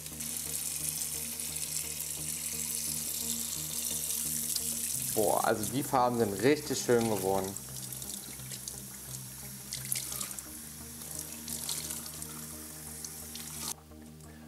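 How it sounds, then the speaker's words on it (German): Lukewarm tap water runs steadily into a sink as dyed wool skeins colored with crepe paper are rinsed, a continuous splashing hiss. Midway someone speaks briefly over it, and the flow stops near the end. "Jetzt spülen wir das Ganze natürlich nochmal mit lauwarmem Wasser ab."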